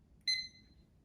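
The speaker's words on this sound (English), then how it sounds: "so it looks like a timer. Yep, it's counting." A science-kit timer gives one short, sharp electronic beep that rings out briefly against near silence.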